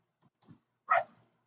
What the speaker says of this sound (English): the dogs are out yelling, and I'm trying to keep them from coming in